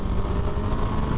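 Steady engine drone from a 2006 Yamaha FZ6 motorcycle being ridden, a continuous low rumble with broadband wind and road noise, close and fairly loud throughout the short stretch.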